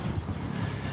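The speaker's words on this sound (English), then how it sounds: "Now it's a little windy" Wind near Pattaya Beach gusting steadily into the microphone, a low rumbling buffet that stays constant and fairly loud for a moment, with no voices.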